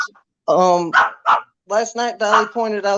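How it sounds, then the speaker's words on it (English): Dogs bark in short bursts indoors, several close, loud barks with some yips overlapping a person talking nearby. "Oh, sorry about my dogs."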